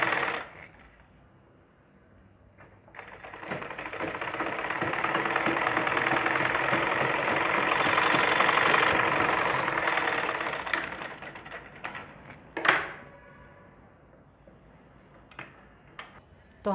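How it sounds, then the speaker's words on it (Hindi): A sewing machine stitches over orange piping on suit fabric, a close, steady whirring run of several seconds that swells and then fades, followed by scattered clicks and handling noises. "इस तरह से पाइपिंग को बराबर कर लेना है और इसके ऊपर हमें सिलाई लगानी है।"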